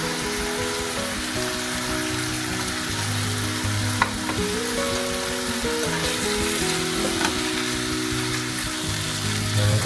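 Squid and bean sprouts stir-fry in a hot pan with oyster sauce, a loud, dense, continuous sizzle with occasional scraping stirs throughout, no voices.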